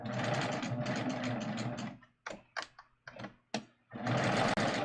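Sewing machine stitching a facing onto a garment neckline, a fast steady whirring run for two seconds, then several short stop-start bursts, then another sustained run, close and clear with no talk.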